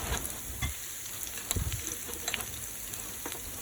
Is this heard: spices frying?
yes